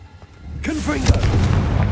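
Confringo blasting curse explosion in Hogwarts Legacy, a sharp booming blast with a rising whoosh that peaks in a single loud crack, followed by rumbling debris and game sound, heard alone without talk.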